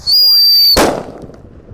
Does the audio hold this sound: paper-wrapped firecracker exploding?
yes